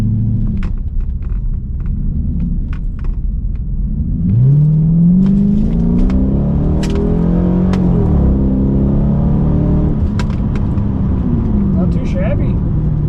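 A 2006 Chrysler 300C with a 5.7 Hemi V8 accelerates hard from inside the car, engine pitch rising through the gears in a loud, steady roar with rumble and a clatter of small knocks.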